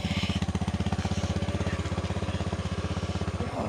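Motorcycle engine idling close by as a rider gets ready on the bike on a plantation track, a loud rapid even putter with steady pulsing rhythm throughout.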